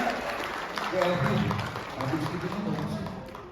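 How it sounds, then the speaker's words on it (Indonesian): Applause from an audience at a seminar for young voters, a steady patter of clapping with voices talking over it throughout. "kita berikan aplaus yang luar biasa tepuk tangan"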